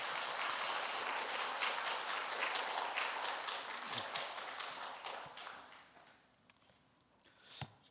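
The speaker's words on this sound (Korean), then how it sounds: "마음으로 우리 크게 박수하겠습니다." A church congregation at a Korean Sunday service claps together in sustained, dense applause that fills the room, then thins out and fades toward the end.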